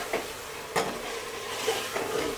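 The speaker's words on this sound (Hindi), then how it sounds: "जब तक हमारा गोश्त भुन रहा है" Mutton pieces fry in a pot for urad gosht, giving a steady close sizzle with scraping stirs at intervals; no one speaks.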